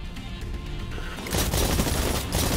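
Gunfire at targets in the Exoprimal tutorial: a steady stream of rapid shots, moderate in volume, that grows louder and denser halfway through and keeps going without a break.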